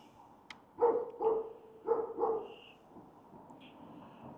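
A dog barks four times in two quick pairs, fairly close, at an outdoor spot overlooking the new Everton stadium construction site at Bramley Moore Dock, with light background ambience between barks.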